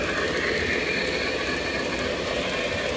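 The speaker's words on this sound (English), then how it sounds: "I want to talk about this Blue Comet that just went by." A Blue Comet model train rolls past on a layout, a steady rumbling rail clatter that holds even and fairly close for the whole stretch, with no voices.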